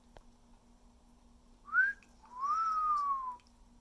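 A parrot at Hilton Head Island, SC whistles a clear two-part call: a short rising note, a pause, then a longer sliding tone that gently falls away, alone over a quiet background hum.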